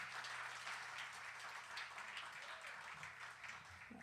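A Sunday-night audience at a live concert of American roots music applauds with a dense, even wash of clapping that holds steady throughout at a moderate, somewhat distant level.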